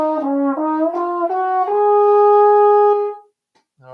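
A short linear melody played back in Noteflight notation software, a clear synthesized tone stepping through a few adjacent notes before settling on one held pitch, then a brief new note at the end, loud and close with no talking.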